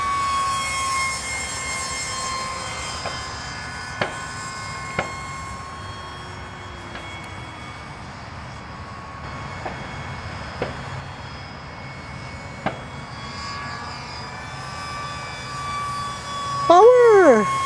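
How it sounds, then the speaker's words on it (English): A Banana Hobby F-18 70mm electric ducted fan RC jet coming in to land, a continuous high whine of the fan with a few short clicks, rising into a louder sweep near the end. "Okay, I'm gonna land it left to right, okay?"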